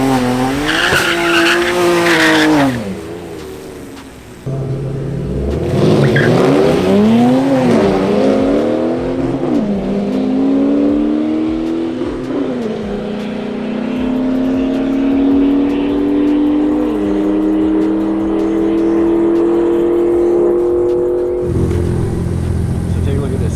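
Drag racing camera car launching in first gear, tires squealing briefly before the engine revs climb and hold in a long, loud pull, with people talking over parts of it.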